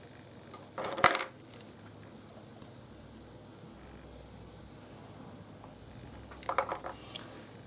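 Rough boulder opal stone pieces from Queensland, Australia, clatter as they are thrown down and handled, with a sharp cluster of clinks near the start and a softer rattle near the end, over quiet room background.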